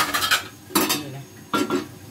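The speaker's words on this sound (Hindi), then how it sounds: "अब ये भिंडी डाल देंगे" Okra goes into a pan of fried masala in a home kitchen in Pakistan, with a metal spoon clinking and scraping against the pan in three sharp bursts, close and fairly loud.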